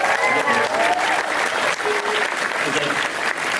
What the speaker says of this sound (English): deserves like a giant round of applause